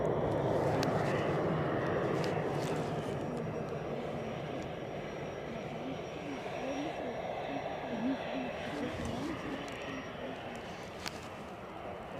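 United Airlines jet on final approach, a distant rumbling engine roar building gradually, with a voice talking over it.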